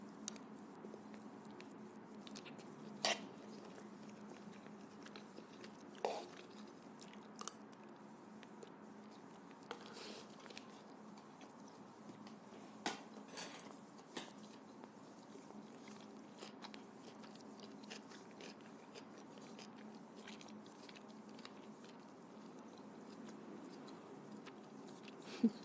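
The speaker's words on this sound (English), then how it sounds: "Trying to chew in the mic" Close-up chewing and biting of food in sauce, quiet wet mouth sounds with sharper bite clicks scattered irregularly over a low steady background hum, no talking.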